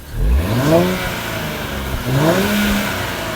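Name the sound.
sports car engine revving exhaust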